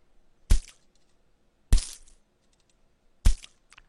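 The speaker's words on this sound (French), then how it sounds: "il faut mettre un peu de bruit, le bruit que le sang fait quand il y a un impact" Blood-impact sound effect added in Camtasia Studio 8: three sharp, cracking hits spaced over a few seconds, each a sudden loud smack with a brief crunchy tail, separated by near silence.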